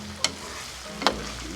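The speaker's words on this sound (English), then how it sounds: "Hear that sizzle." Chorizo sizzles steadily in a hot, oily pan, with two brief sharp scrapes as it is stirred, close up and without talk.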